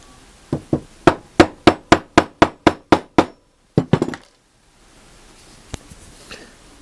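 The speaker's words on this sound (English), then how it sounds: "this is the first time I've used these chisels" Woodworking chisels trimming joints during a dry assembly produce about eleven sharp, evenly spaced strikes, followed by a pause, then a short quick cluster and a final single tap.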